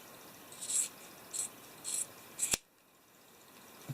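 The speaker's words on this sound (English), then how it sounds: "we're going to take the top part of the fuzzy sock that we cut off from the body, and we're going to cut it open." Scissors snipping through the top of a fuzzy sock, four crisp close cuts spaced about half a second apart and ending in a sharp final snap, then quiet.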